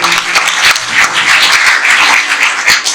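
An audience at a book presentation breaks into close, loud applause, a steady wash of many hands clapping with a few sharper individual claps standing out.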